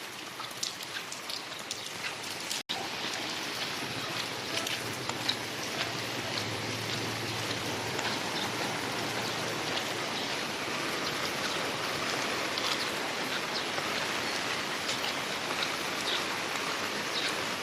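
Steady, dense rain pours down continuously, a broad hiss of drops hitting surfaces with no voices, just one brief dropout early on.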